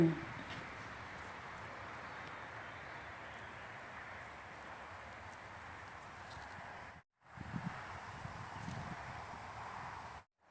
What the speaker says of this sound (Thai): แล้วก็เสียงลมด้วยนะคะ ลมก็แรงนิดหน่อยค่ะวันนี้ ลมก็แรง